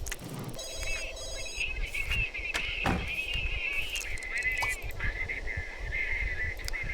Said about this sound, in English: Answer your phone, Mary Sue.